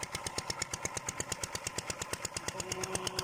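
A small engine drives an irrigation water pump, chugging at a fast, even rhythm of regular thumping pulses under a steady mechanical drone, fairly close and unbroken.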